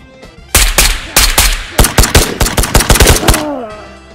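Gunfire in the video game Ghost of Tabor, loud close bursts of rapid shots, two quick shots then a dense string of about a dozen cracks in fast succession.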